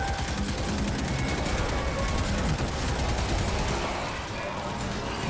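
Rapid gunfire in the video game Destiny 2, a continuous dense rattle of shots with a heavy low rumble that thins out near the end, playing steadily under a voice talking.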